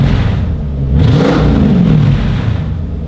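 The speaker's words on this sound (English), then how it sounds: "You want to hold it while I give it a rev?" A Jeep SRT8's V8 engine revs up loudly from idle, rising in pitch for a second or so, then settling back down to a deep rumble.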